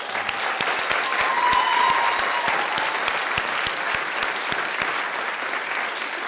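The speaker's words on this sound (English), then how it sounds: "let's give the teachers a big round of applause." An audience at a 2018 Gateway to College event applauding the teachers, loud sustained clapping from a large crowd, dense and even throughout with a faint whistle early on.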